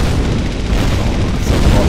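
Missile explosions in the tower-defence video game Kittypocalypse, heard as a dense, continuous rumble of heavy overlapping booms that stays loud and close for the whole two seconds.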